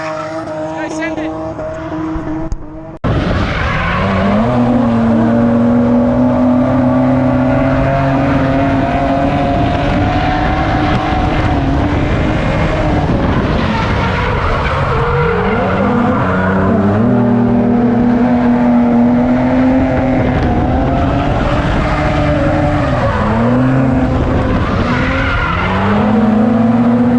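Subaru wagon drift car skidding with long, loud, sustained tire squeal over a revving engine, close and continuous after a brief quieter start, with voices faintly mixed in.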